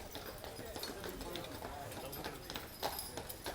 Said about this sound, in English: Look at those beautiful horses.